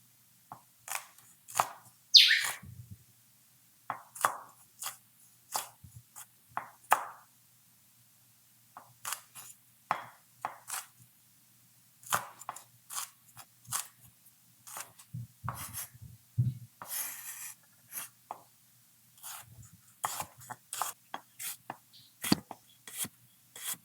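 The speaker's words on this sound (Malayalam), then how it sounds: "ഇഞ്ചി വെളുത്തുള്ളി മുളകല്ല അരിഞ്ഞു" Knife chopping ginger, garlic and chili on a board, sharp close taps in irregular bursts with short pauses, some quick rapid runs of cuts, crisp and alone without talk.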